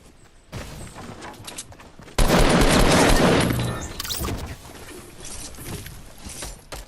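Gunfire in the Fortnite video game, with scattered shots, then a loud, dense burst of rapid fire lasting about two seconds, followed by further sporadic shots and faint game sounds.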